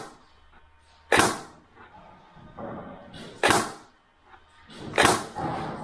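A Novritsch SSR90 GEN2 airsoft rifle fires three sharp, close shots a couple of seconds apart, each a crisp snap with a brief fading tail, over a quiet background.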